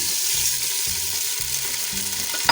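Beef for a traditional kunna sizzles steadily in a hot pan of oil with ginger-garlic paste, a continuous bright crackle with soft stirring thumps underneath and a sharper clink near the end.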